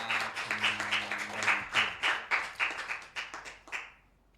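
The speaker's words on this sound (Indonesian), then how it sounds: "tepuk tangan luar biasa untuk Mbak Eka." Audience applause at an Indonesian arts and culture event, a crowd clapping steadily at moderate loudness for several seconds, then tapering off and fading at the end.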